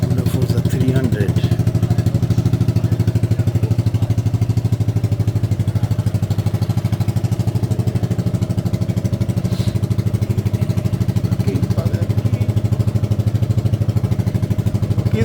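A Honda Forza 300 scooter engine runs at a steady idle with a continuous low drone and clatter, and people talk over it nearby.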